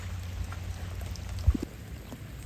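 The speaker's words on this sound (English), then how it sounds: "as you can see, it's raining pretty good" Heavy rain falling outdoors in a storm, a steady broadband wash of drops close around, with a brief louder knock near the middle.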